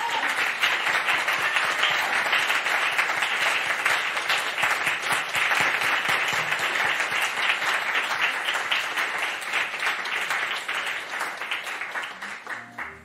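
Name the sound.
audience applause at end of lecture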